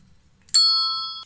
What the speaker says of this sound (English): some desk bells,